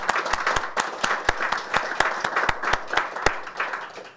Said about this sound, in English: Can we give another round of applause for our fantastic speakers?